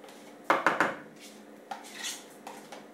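A spoon scrapes and bangs sour cream off into a bowl for a poppy seed chicken dish: three loud close clanks in quick succession, followed by softer knocks and scraping.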